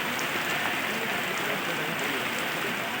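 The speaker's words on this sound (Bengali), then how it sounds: "ভালো বৃষ্টি হচ্ছে অনেক দিন পর।" Continuous rain pours down in a broad, steady hiss with occasional distinct drips, with no voices audible.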